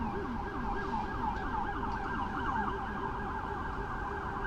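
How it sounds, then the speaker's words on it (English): Emergency sirens wail steadily through a quiet New York City night near the Hudson River, rising and falling in overlapping cycles at a moderate distance, with faint traffic underneath and no talking. "we do have some sirens"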